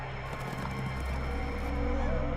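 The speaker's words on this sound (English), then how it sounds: "As the horses pass the post" Horses thunder past the post at a 1930s racetrack in Cincinnati, a steady loud rumble of hooves and crowd noise filling the scene with no break.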